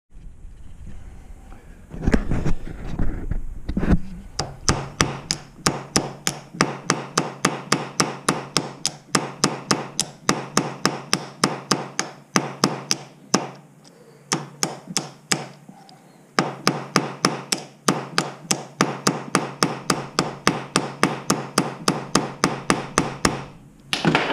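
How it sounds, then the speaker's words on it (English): A hammer peens the end of a metal pin on a bucket snare with rapid, sharp, ringing strikes. They come in long runs with a few short pauses, loud and close, and no talk is heard. "I can just peen that down, mushroom it enough to where it won't come out of this hole"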